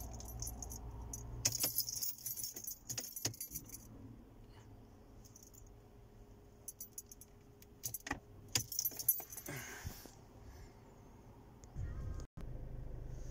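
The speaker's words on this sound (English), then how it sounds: "Oh, I've just dropped the key, hang on." Car keys for a Mercedes B-Class are dropped, jingling and clattering in short bursts, near and fairly faint, with a few sharp knocks and a low steady hum underneath.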